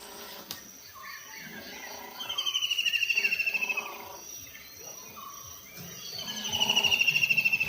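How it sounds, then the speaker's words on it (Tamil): A kingfisher at a wooded bird sanctuary gives two bursts of rapid, high rattling calls. They are fairly clear over quiet background forest noise, with a few fainter bird notes between them. "இப்போ நீங்கள் பேக்ரவுண்டில் கேட்குற இந்த சத்தம் வந்து மீன்கொத்தி பறவை, கிங்ஃபிஷர்."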